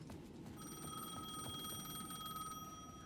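A phone rings in the horror video game Alan Wake 2, a steady electronic ring with a sustained bright tone held for a couple of seconds over a dense, murmuring game ambience, with no voices.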